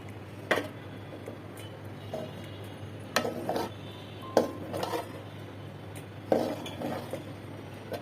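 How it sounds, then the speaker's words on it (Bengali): Beef mince filling for meat pitha is being stirred and mixed by hand in a pan, with intermittent clinks and scrapes of a utensil against metal, soft and fairly close, against quiet background hum. "ভালো করে নেড়ে চেড়ে মিশিয়ে দিলাম।"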